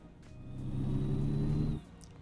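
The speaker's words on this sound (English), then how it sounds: "just kind of cruising through town in a big truck" Big truck engine in American Truck Simulator cruising through Los Angeles streets, a low, faint droning hum that swells, holds steady for about a second, then drops away, with no voices.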